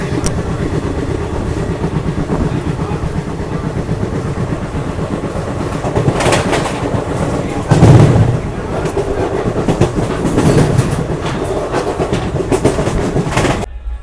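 Passenger train travelling from Hyderabad to Rajasthan in heavy rain, with a steady rumble and rattle of carriages on the rails and a few sharper clanks and thumps along the way, filling the whole stretch without speech.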